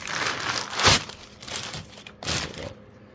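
Christmas wrapping paper from a smoke alarm box crinkles and crumples in three loud bursts, close up, with brief pauses between handfuls and no talking.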